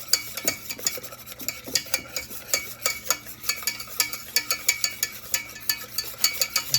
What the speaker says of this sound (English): Still keep stirring it.